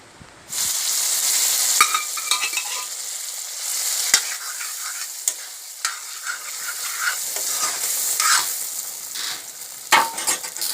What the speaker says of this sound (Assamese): এতিয়া কুকাৰত বইল কৰি থোৱা বুট দালি আৰু আলুখিনি কেৰাহীত ঢালি দিম